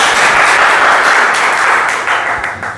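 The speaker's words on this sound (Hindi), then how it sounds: "तो जोरदार तालियों से स्वागत करिए पंकज सर का" Loud, dense applause fills a hall at a Hindi Diwas poetry gathering, welcoming a humorous poet; sustained crowd clapping stays strong and even throughout, easing slightly toward the end, with no talk over it.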